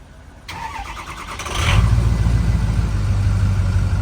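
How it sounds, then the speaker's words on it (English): Dually pickup truck engine cranks briefly, catches with a rising roar, then settles into a loud, steady low idle as it starts warming up close by, with no voices. "getting ready to fire up the dually, let it start warming up"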